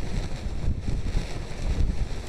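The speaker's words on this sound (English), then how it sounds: "as you can see, it is pretty windy out still this morning" Strong coastal wind ahead of a tropical storm buffets the microphone in a continuous, loud, gusting rumble with no voices.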